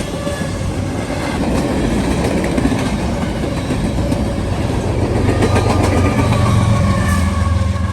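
A southbound Norfolk Southern freight train, train 266 led by a pair of BNSF locomotives, rumbles past loudly and close, with steady rolling roar and wheel clatter throughout.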